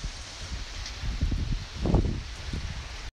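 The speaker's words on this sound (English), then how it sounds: "It's still a little windy, but not rainy at all." Wind gusts from Hurricane Eta in Fort Myers, Florida, rustling leaves outdoors, a steady breezy hiss with a louder swell of rustling near the middle, no rain falling and no talk.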